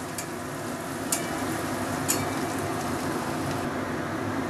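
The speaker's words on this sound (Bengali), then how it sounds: "যতক্ষণ পর্যন্ত না এর কাঁচা গন্ধটা যায় রসুনটাকে আমি ততক্ষণ পর্যন্ত ভেজে নেব" Chopped garlic fries in oil in a pan, giving a steady close sizzle and crackle throughout with a couple of sharp utensil clinks, no talking.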